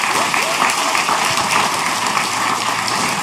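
An audience at a national investiture ceremony applauds a guitarist, steady dense clapping without talk.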